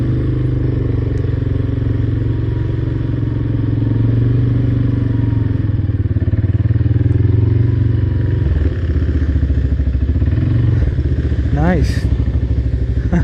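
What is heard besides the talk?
ATV riding through flooded terrain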